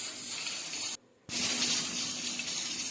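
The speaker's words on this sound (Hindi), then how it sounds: "थोड़ा सा इसमें हम पानी शामिल करेंगे।" Water is poured into a sizzling chickpea pulao tadka with crushed red chilli, a hissing splash broken by a short pause before the sizzle resumes steadily.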